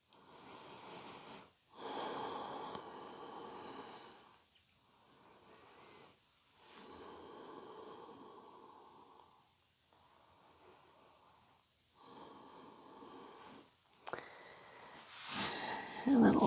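Slow, steady breathing held during a floor yoga stretch: long soft breaths in and out, separated by short quiet gaps, close and gentle, with a louder rustle at the end.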